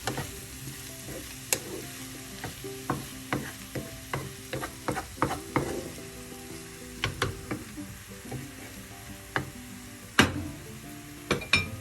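Chow-chow (chayote) thoran being stirred in a frying pan: a steady sizzle with repeated sharp scraping clicks of the spoon against the pan at an irregular rhythm, close and fairly loud, with no talking.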